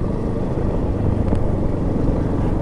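A Yamaha XTZ Lander 250 motorcycle rides over cobblestone paving, its engine a steady, close, low rumble with an even drone and no other noise.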